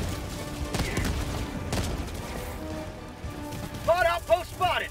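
In Helldivers 2, on a mission against bots, two broadband blasts from a grenade explosion and gunfire land in the first seconds over a rumbling, noisy background, followed by voices talking close up.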